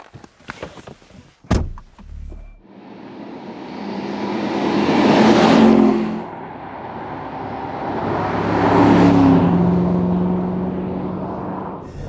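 A 2023 Mercedes-AMG GT coupe drives off after a few clicks and a thud. The engine rises in two long accelerating sweeps, each swelling loud and then easing away, with no voices.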